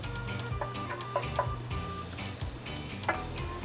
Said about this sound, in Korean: 중불로 킨 뒤 고추기름으로 파를 또 볶아주세요.